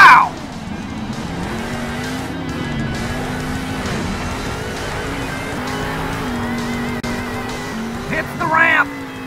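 Monster trucks in the Monster Jam Steel Titans video game roar through a freestyle run, a steady loud engine drone with tire squeal, rising to a louder burst near the end as a truck lands.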